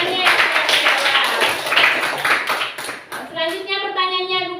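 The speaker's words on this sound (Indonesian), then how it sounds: "Tepuk tangan untuk semua temannya yang sudah menjawab." Schoolchildren in a classroom clapping for classmates who answered, a burst of group claps that fades out as a voice takes over near the end.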